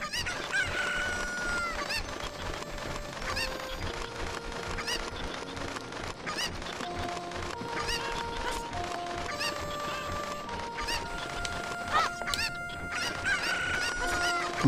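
Chickens (cuccos) in the Nintendo game The Legend of Zelda: Ocarina of Time give off a steady stream of clucks and squawks, with game music playing underneath throughout.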